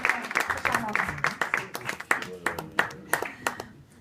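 An audience at a commemorative concert gives warm applause: a fairly small crowd's claps come in an uneven, pulsing patter, moderately loud and close.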